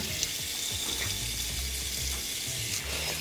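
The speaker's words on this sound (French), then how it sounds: "on met un petit peu d'eau froide au fond d'une poêle et on vient stopper la cuisson" Cold water poured into a hot frying pan of brown butter, a steady loud sizzle and hiss running throughout without any voices.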